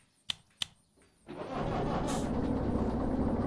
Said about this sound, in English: So let's switch on the engine